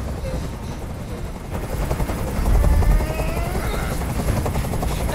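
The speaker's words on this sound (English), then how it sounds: "Tell that helicopter to get out of here." A helicopter hovers in the video game Detroit: Become Human on PS5, its rotor chop a loud, continuous, close drone that swells slightly midway with rumbling low thuds.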